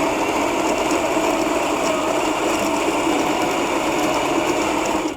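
A La Pavoni Domus Bar espresso machine's built-in coffee grinder runs continuously, a loud, steady high-pitched motor whir with buzzing vibration that holds level for several seconds before cutting off at the very end.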